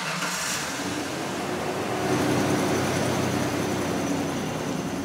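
A car engine running uphill on a test drive after a spark plug replacement, a steady droning motor under road noise that grows slightly louder partway through.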